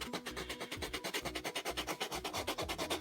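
Sanding down the neck of a Pullip doll produces a quiet, close, steady back-and-forth scraping with a regular rubbing rhythm.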